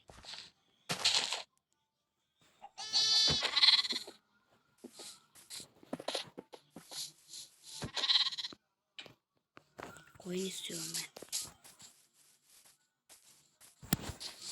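Several sheep bleats in Minecraft, shaky wavering cries scattered among bursts of talking and short clicks and thumps.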